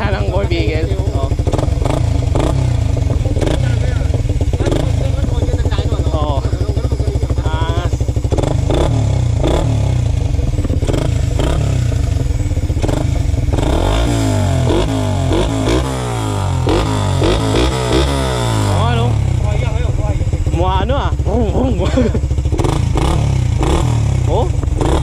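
A Suzuki Raider R150 Fi motorcycle with its air box removed revs repeatedly, loud and close, its engine rising and falling throughout while people talk over it.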